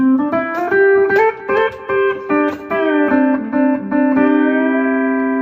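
A pedal steel guitar plays a slow, gliding melody of sustained, sliding notes, with a faint delay echo trailing each phrase.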